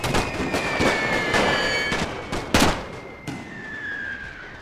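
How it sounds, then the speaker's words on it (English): Light mortar fire in The Great War game, a string of sharp cracking blasts at uneven intervals over a thin whining tone, with one louder burst midway and fainter ones trailing after. "we got a light mortar over there. That's what's doing that damage."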